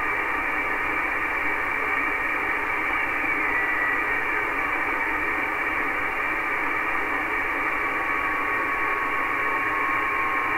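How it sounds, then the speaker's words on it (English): Faint steady beacon tone from an amateur radio satellite, slowly drifting in pitch from Doppler shift, buried in continuous hiss and static from a VHF/UHF receiver. "there's a tone and it's Doppler shifting"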